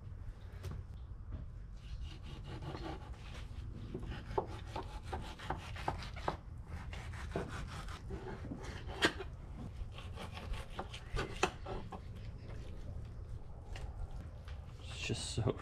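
A knife scrapes and slices along a thick-skinned cobia fillet, trimming away the heavy bloodline in a run of rough rubbing strokes, close and fairly quiet, with someone talking through it.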